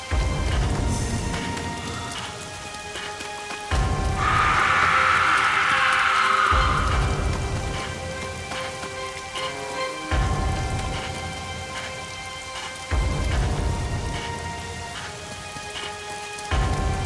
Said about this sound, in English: Yeah, you're loving this rain effect